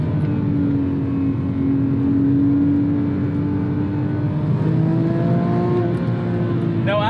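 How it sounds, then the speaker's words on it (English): Cabin sound of a 2007 Porsche 911 GT3 (997.1) naturally aspirated engine pulling through the revs, a continuous loud drone whose pitch climbs slightly, with a brief voice near the end. "It howls to that red line, naturally aspirated."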